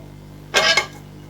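A heavy-bottomed pot is set down on a stove, giving one brief, close metallic clunk with a small second knock, then quiet.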